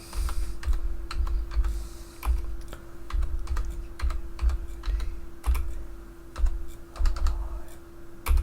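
Typing on a computer keyboard while entering a Linux terminal command: bursts of close, crisp key clicks in quick irregular runs, broken by short pauses, over a steady low electrical hum and no speech.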